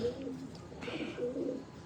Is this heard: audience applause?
no